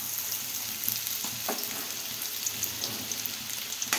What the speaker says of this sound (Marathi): आता आपण एका कढईत तेल तापवलं आहे। आता आपण यात कांदा टाकूया थोडा